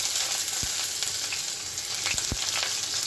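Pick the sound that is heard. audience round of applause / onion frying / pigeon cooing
onion frying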